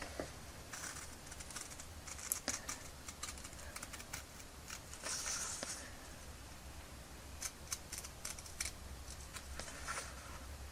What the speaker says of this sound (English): I've got a pair of scissors here. Let's get cutting.